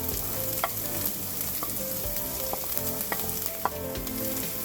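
Carrots fry in a pan with a steady close sizzle, and a spatula scrapes and taps against the pan at irregular moments while they are stirred; no speech.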